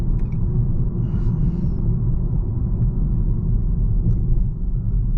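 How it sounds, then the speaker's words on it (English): Steady low rumble of road noise from inside a moving 2023 BMW 330e plug-in hybrid, continuous and fairly loud, with no talking. "Feel a little bit of the road noise here"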